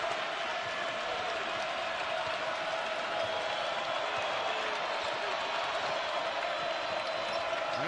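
A basketball arena crowd of TCU Frogs fans cheers after a score against Baylor, a steady, dense roar of applause and crowd noise sustained throughout, with a broadcast commentator talking over it.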